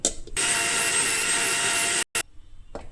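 A loud, high-pitched whirring of a mixer grinder grinding banana stem with a little water runs steadily for about two seconds, stops abruptly, then gives a brief final burst.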